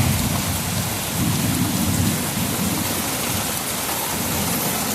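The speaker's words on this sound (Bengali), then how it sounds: "দেখো আজকে প্রচণ্ড বৃষ্টি প্রচণ্ড" Heavy rain pours down during a thunderstorm: a loud, dense, unbroken roar of rain on surfaces with deep rumbles of thunder rolling underneath throughout.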